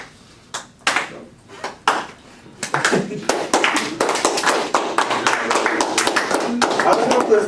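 At an entrepreneurship club meeting, an audience starts a slow clap: a few widely spaced single claps that speed up and build into fuller, rapid applause.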